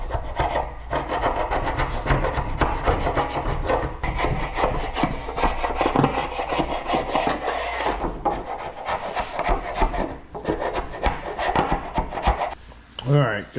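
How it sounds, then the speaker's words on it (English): Sandpaper rubs back and forth over a wooden workpiece in a garage, a close, steady rasping scrub with uneven strokes and a brief pause near the end. "All right, gonna sand the underside."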